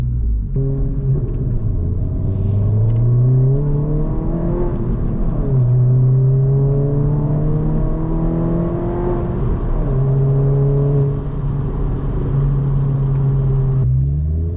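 Modded 2022 Honda Civic Si engine and exhaust droning loud and close while driving, with repeated rising and falling revs across gear changes and a low burbling rumble underneath, no voices.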